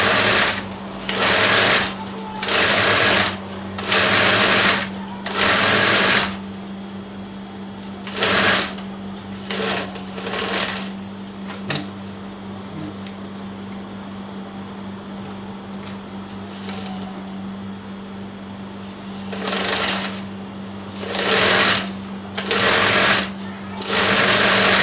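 A sewing machine stitches an elastic shirred dress in repeated bursts of fast rhythmic whirring, close up, with pauses between runs and a steady low hum underneath; a voice speaks quietly between stitches.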